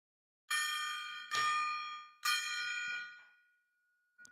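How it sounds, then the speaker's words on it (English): A gong sound effect: three loud metallic strikes in a row, each ringing out with a bright, sustained tone before the next hit, followed by a faint short fourth tap. "The big gong of truth."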